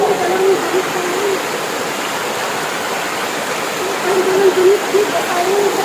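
Clear stream water flows steadily at Baggao blue lagoon in Cagayan Valley in a loud, continuous rushing wash, with a faint voice murmuring beneath the noise.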